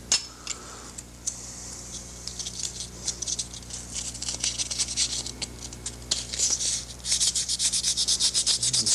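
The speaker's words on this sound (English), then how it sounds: "Sanding the inside of the canopy." Sandpaper rubs rapidly against the inside of a hard plastic jet aircraft model canopy in short scratchy strokes, speeding into a steady back-and-forth rhythm toward the end.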